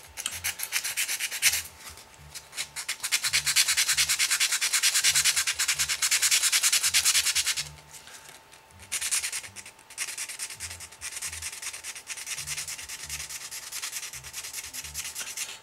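Sandpaper rubbed by hand across an Emerson piece, a steady close scratchy rasp broken by short rhythmic strokes, briefly pausing before resuming in shorter bursts.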